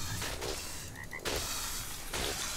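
Frog croaking in the video game ARK Survival Evolved, a few repeated croaks over a dense game soundscape, fairly loud and close, with short pauses between calls.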